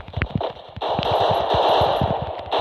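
Rapid automatic gunfire from the Free Fire video game, a dense burst of repeated shots that starts sparse and then runs continuously and loud to the end.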